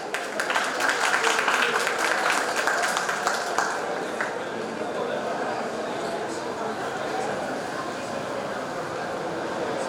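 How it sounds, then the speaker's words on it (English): Audience applause at a college IT fest, fairly loud and steady at first, gradually settles into a dense, washing crowd noise that carries on to the end. "Let's once again have a huge round of applause for sir."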